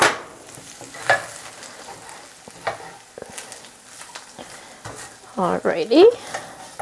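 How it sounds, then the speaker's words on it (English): Panko crumbs stirred in a hot pan, a soft continuous sizzle with scraping strokes of the spoon that turn louder and busier toward the end, with a brief spoken word near the start. "I'm gonna stir this in to kind of give it a little bit of a toasted effect"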